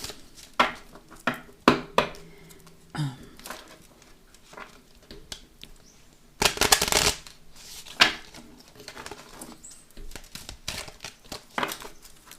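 Oracle cards being shuffled by hand close up, a run of crisp riffling slaps and soft card patter with one longer dense burst of shuffling midway, no talking.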